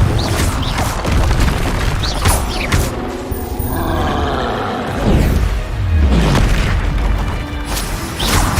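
Confringo blasting spells go off in Hogwarts Legacy, loud booming explosions with roaring, crashing bursts that come in a dense series and leave a rumbling tail between them.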